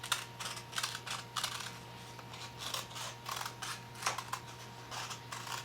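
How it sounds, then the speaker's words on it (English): Scissors snip through paper in a steady run of small, crisp cuts, close by and fairly quiet, with no talking. "So I'm going to take small bites, and the scissors hold the paper in that place"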